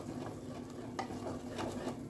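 Masala sautéing in a pan for a spicy modak amti, a steady close sizzle with scraping stirring strokes running through it, a few louder spatula scrapes standing out.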